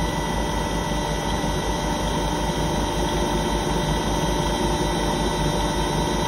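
Marine engine turning a Balmar-regulated alternator at a steady 1500 RPM, a constant close, loud drone with even mechanical hum and hiss and no variation throughout.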